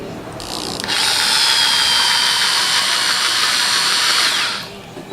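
A power drill bores into a glass jar filled with tap water, giving a steady, loud, high-pitched whine that holds for about four seconds and then stops.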